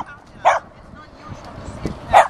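A dachshund barks twice in a dog park, short sharp yaps spaced about a second and a half apart, close and loud over ambient outdoor noise.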